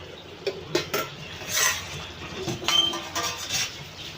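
A lid comes off a covered pan holding a simmering fish dish, with a few sharp metallic clanks and clinks scattered over a quiet background and a faint bubbling hiss beneath.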